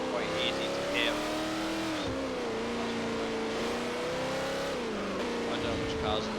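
Race cars roar through a Forza Motorsport 4 race, one engine droning steadily close by and shifting pitch under braking and acceleration, with faint tire squeals and other cars audible in the background.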